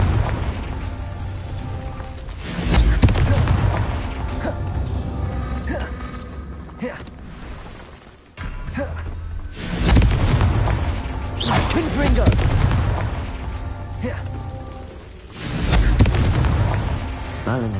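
Confringo fire spells burst in Hogwarts Legacy gameplay, a series of loud booming explosions with rumbling, creaking debris and layered game sound in repeated waves.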